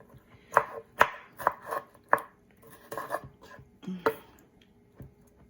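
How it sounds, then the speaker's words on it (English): A kitchen food processor chops sauce ingredients for lasagna roll-ups in a series of quick, sharp thumping pulses. The pulses come in an uneven rhythm, are close and moderately loud, and there is no talk. "It's gonna go in the food processor."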